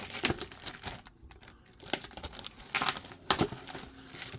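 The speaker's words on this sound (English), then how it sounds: "just tear this plastic off" Plastic film is torn and crinkled off the box of a OnePlus AIRVOOC 50W wireless charger, close up in short irregular bursts of crackling and ripping with brief pauses between.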